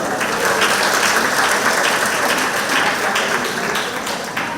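Meeting attendees dressed up for an International Women's Day gathering give themselves a loud, dense round of applause that holds steady throughout.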